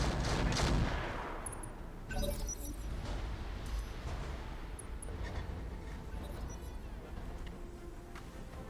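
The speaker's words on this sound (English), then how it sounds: "They're still shooting the longbow. That's artillery." Artillery fire in the BattleTech mod Roguetech, from a Longbow mech: a loud booming blast at the start followed by a continuous rumble of explosions and scattered impacts.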